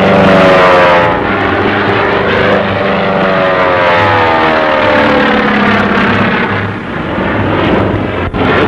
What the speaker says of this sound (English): Twin propellers turning in opposite directions, the heavily armed P-38 cruises around 400.